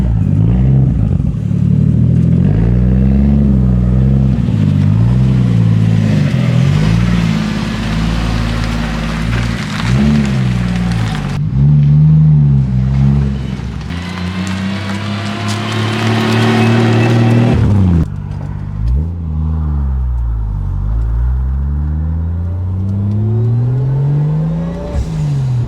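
A 1987 Toyota Supra engine warms up at idle and then revs repeatedly, each rev swelling and falling away. The engine is loud and close, with sustained revving in the middle stretch and no voices over it.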